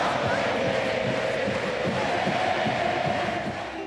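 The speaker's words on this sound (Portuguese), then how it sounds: "Uma torcida inteira gritava, vibrava por um adversário" A whole stadium of football fans roars together, a thick and steady wall of shouting and chanting heard from within the stands, loud and unbroken for the full stretch.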